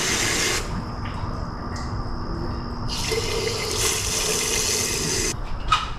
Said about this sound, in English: While you're filling this, you'll notice bubbles come up here as this water or new coolant flows back into the system.